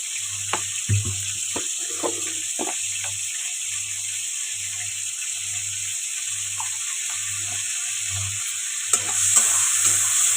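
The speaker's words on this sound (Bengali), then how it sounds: "চিংড়ি মাছটা ভেজে নেব।" Shrimp frying in a pan in a home kitchen: a steady, close sizzling hiss runs throughout, with occasional stirring clatter and a slight swell near the end.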